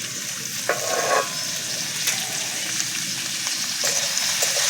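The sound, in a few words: onion stalks lightly frying in a little oil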